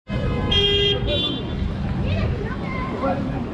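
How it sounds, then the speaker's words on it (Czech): Taxi and car horns honking in busy Lima street traffic, a couple of short toots early on over a steady hum of engines and street babble, with someone talking throughout. "Taxi, když jede po ulici a není úplně zaplněný, tak neustále troubí, aby na sebe připoutal pozornost"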